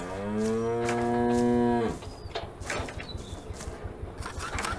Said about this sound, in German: Kühe sind so liebe Tiere.